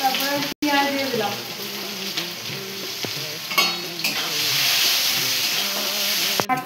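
Chopped onions dropped into hot oil with tempering spices in a home kitchen pan sizzle and crackle loudly and steadily, with occasional stirring scrapes and a brief break near the start.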